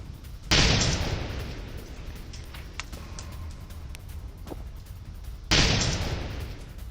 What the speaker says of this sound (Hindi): ड्रोन हमले के बाद हुआ जोरदार धमाका।